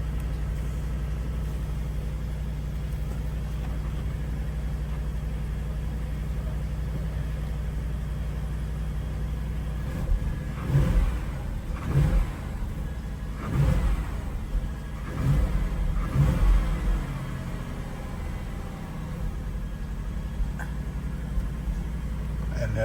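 A 2022 Porsche Cayenne Turbo in Sport Plus mode holds a steady, low idle hum, then gives several short throttle blips in quick succession midway through before settling back to idle.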